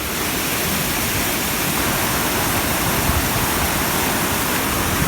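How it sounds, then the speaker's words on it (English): Krupa waterfalls on the river Vrbas near Banja Luka, Bosnia and Herzegovina, pour in a loud, constant broadband roar of falling water, close and unbroken with no voices. "Krupa waterfalls. That's close to river Vrbas and certainly close to Banja Luka."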